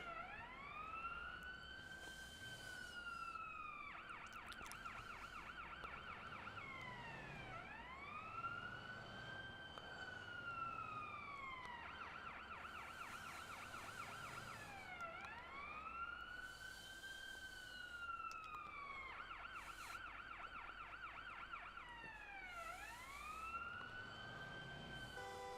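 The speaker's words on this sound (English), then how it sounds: "That's the only reason I'm sticking with this siren, because of that horn." A wailing ambulance siren in the paramedic video game Ambulance Life, looping loudly and continuously through rising and falling sweeps with short rapid yelp bursts in between, close and unbroken.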